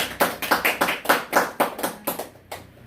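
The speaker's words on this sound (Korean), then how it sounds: "감사의 박수를 보내주십시오." An audience claps in thanks at a product presentation, a dozen or so distinct, fairly synchronized claps in a loose rhythm that thin out and fade near the end.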